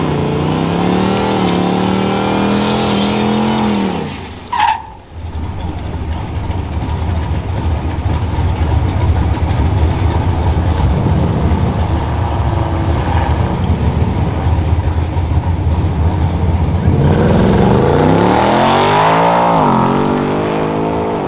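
A 2024 Ford Mustang GT with the 5.0 V8, non-performance pack, idles with a deep rumble, then revs loudly with rising and falling engine sweeps, a brief dip in the middle and no talking.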